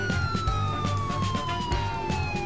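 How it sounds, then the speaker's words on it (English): A police car siren from the Driver San Francisco video game wails loudly and steadily in a falling tone over a rhythmic engine and road rumble, with no talking. "when I turn on the sirens, they somehow flash"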